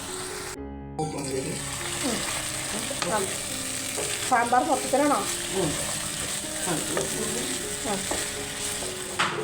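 Chicken with curry leaves fries and is stirred in a pan, giving a continuous close sizzle with scraping stir strokes beneath people chatting.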